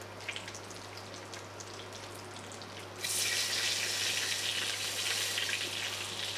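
Whole cardamom pods, cinnamon sticks and torn bay leaves sizzle and crackle steadily in hot oil in a pan, a constant frying hiss that grows louder and brighter partway through, with no talking.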